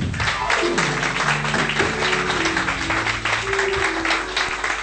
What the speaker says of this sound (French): Applaudissez fort Jéhovah.